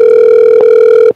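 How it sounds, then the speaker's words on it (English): A telephone rings loudly and steadily in a radio studio, one continuous electronic tone with a slight break midway before cutting off cleanly, heard alone without talk. "Can they hear the ringing on air?"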